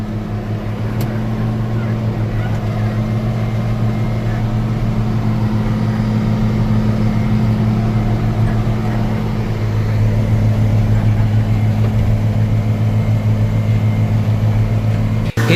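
A tractor with a mower cuts the first silage of the season along a field edge by a ditch, its loud, steady engine drone running without a break throughout.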